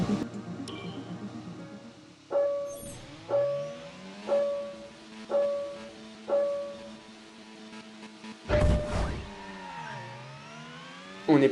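Formula 1 cars launching off the grid at Jeddah in the F1 Mobile Racing game, repeated rising engine whines in short bursts, then a loud surge and a sweep of revving that fades into a steady hum, with no talk.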